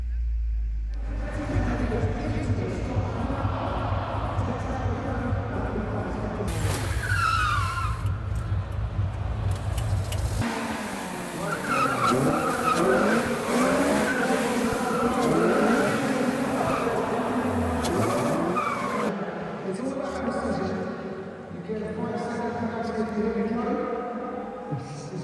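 Race cars rev and skid with tyre squeals around the Race of Champions course, loud and continuous engine noise with a person talking over it.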